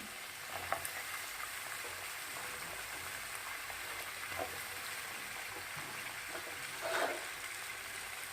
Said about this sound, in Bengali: এইবার এই সমস্ত উপকরণগুলো দিয়ে একটু ভালো করে আমরা তেলের মধ্যে নাড়াচাড়া করতে থাকবো।